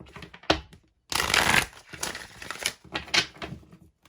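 Tarot cards being shuffled in quick riffling bursts, a sharp snap, then a louder cascading shuffle followed by several shorter flicks, close by with no talking.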